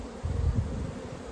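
Mountain honey bees at an open hive make a low, close, continuous buzzing drone, swelling briefly near the start and then holding steady.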